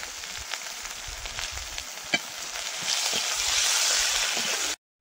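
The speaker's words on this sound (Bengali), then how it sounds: "কুচি আর থেতো করা রসুন একসঙ্গে ভেজে নেব" Chopped and crushed garlic frying in fish-frying oil with panch phoron and bay leaf, giving a steady close sizzle that swells louder toward the end, broken by light stirring clicks before cutting off.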